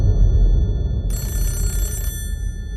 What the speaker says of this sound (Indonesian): Tiba-tiba telepon bunyi.